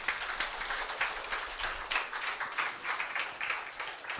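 Church congregation clapping along in steady rhythmic beats, a fairly quiet and distant patter of many hands continuing throughout with no break.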